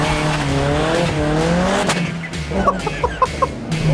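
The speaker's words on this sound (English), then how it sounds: "Lots of wheel spin, still wheel spinning." A 1990s Corsa hot hatch spins its wheels at a race start, with a loud, wavering tyre squeal that gives way to engine roar and a few sharp bursts, and no voices.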